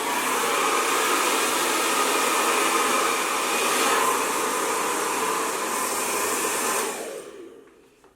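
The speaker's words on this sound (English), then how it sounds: "So I'm going to put my hairdryer back onto the hotter heat," A hair dryer on its hotter heat setting blows a loud, close, steady whooshing roar while drying a fringe, then winds down and cuts off near the end.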